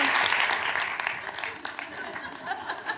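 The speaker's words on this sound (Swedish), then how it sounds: "Applåd!" Studio audience clapping on cue during a comedy talk show, a broad wash of applause that starts strong and thins out, with chuckles and scattered voices mixed in.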